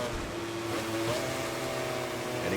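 Ducati MotoGP bike blasting down a straight in MotoGP 24, a steady sustained engine drone held at high revs, moderately loud and continuous.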